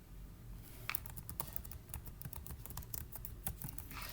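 Rapid computer keyboard typing, a steady run of close, crisp keystrokes with no voice over it.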